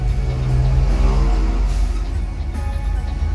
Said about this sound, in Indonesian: Nah, ini Bang Jaya yang bawa bus kita Spy.